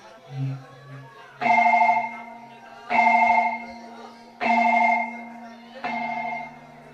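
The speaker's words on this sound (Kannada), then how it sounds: "ಫೋನ್ ಮಾಡ್ತೀನಿ" A telephone rings in a Kannada village drama scene, four loud, evenly spaced electronic ring bursts, each lasting over a second, with faint low sounds between them.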